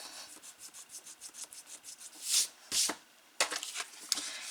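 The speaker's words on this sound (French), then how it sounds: "On va gommer." An eraser rubs pencil marks off paper during a paper-craft album project, giving a steady run of quick, close scratchy strokes, then a few louder, longer bursts of rubbing toward the end.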